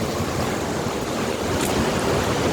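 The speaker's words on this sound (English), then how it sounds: "Sutherland Falls is the largest waterfall in all of New Zealand" Sutherland Falls, New Zealand's largest waterfall, roaring as a steady broadband rush of falling water, loud and continuous throughout.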